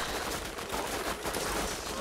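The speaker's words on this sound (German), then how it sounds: "Ich verballer Schüsse im Sekundentakt." Rapid gunfire from the shooter game Borderlands, a dense, loud, continuous burst of shots packed together without pause for the full two seconds.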